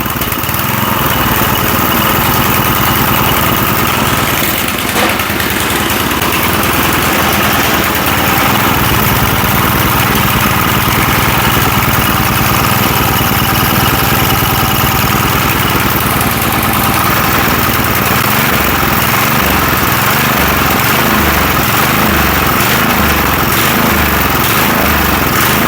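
A small garage-find rototiller engine idles loudly and close with the choke partly on, a continuous rough drone carrying an uneven, slightly loping pulse throughout.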